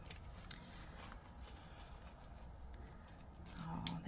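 Stickers come out of a crinkly plastic bag in a quick, close rustle of handling and rattling. The rustle runs steadily throughout and grows a little louder near the end.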